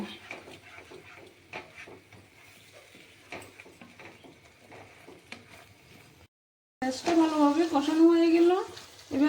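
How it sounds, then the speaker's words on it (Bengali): Cashew paste being sautéed in a pan for masala paneer gives a faint, steady sizzle with light stirring taps and scrapes, then a loud voice takes over near the end. "কাজু বাটাটা দিয়ে দিচ্ছি এবার আর একটু ভালোভাবে কষিয়ে নেব"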